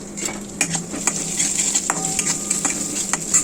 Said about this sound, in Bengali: আর এখানে আমি কড়াইয়ের মধ্যে পেঁয়াজ দিয়ে দিয়েছি, এখন এটা ভাজা ভাজা করব।